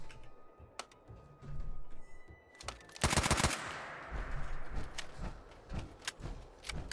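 Gunfire in the Fallout 4 Nuka World DLC, a few isolated shots followed by a loud rapid automatic burst, then scattered quieter shots and clatter trailing off.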